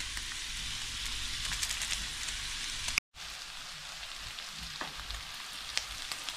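Spiced chicken noodles frying in a pan, a steady bright sizzle with faint stirring clicks, briefly cut to silence midway before the sizzling resumes.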